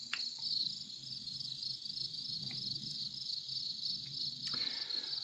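Night-time cricket sounds played from a cheap sound machine: a steady, loud high-pitched chirring drone running throughout, with a few faint clicks and a low background rumble underneath.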